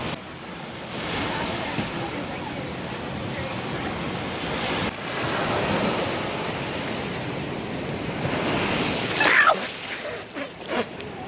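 Ocean waves wash onto a beach in Bali, a continuous broad roar of surf with surging swells, mixed with wind buffeting the microphone and a few handling rustles near the end.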